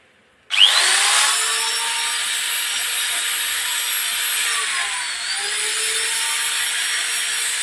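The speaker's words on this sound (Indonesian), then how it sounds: "Bor nyala." An electric drill on a 450 W household electricity supply starts abruptly and runs steadily at a high-pitched whine, close and loud, with a slight dip in pitch midway.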